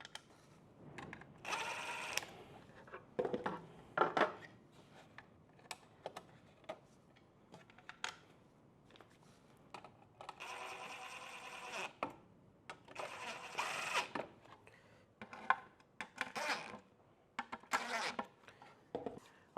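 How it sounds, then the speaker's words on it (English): M4 screws being driven into the side of a DIY Boeing 737 FMC CDU unit, heard as intermittent close whirring bursts from a small screwdriver with ticks and clicks in between, and no talk. "Let's get some of these M4 screws in the side."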